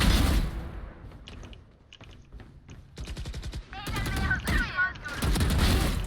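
Rapid bursts of gunfire in the Valorant shooter game, near and loud, arriving in several clusters with brief lulls between them, with a voice talking over parts of it.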